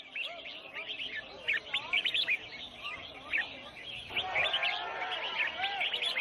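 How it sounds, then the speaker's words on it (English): Exotic birds, captured illegally in the rainforest, sing at a bird-singing competition in an Asian marketplace: a dense, steady chorus of bright chirps and trills, with a fuller burst of song partway through. "here participating in a bird singing competition"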